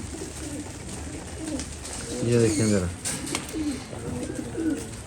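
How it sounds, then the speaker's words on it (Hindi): Pigeons coo in low, throaty bursts nearby while eating grain, as someone speaks briefly over them. "हमारी कबूतर माशाल्लाह दाने को पड़ रहे हैं, टूट रहे हैं"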